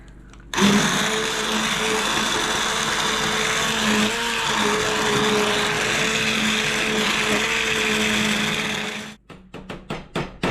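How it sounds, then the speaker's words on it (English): An immersion blender whirs steadily and loudly through cooked, tender butternut squash for several seconds, then cuts off, followed by a few sharp knocks and clatters. "we're going to go ahead and blend this with our emulsion blender"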